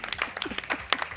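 Short burst of scattered hand clapping, a few people at a live speedrunning marathon event applauding briefly at moderate distance.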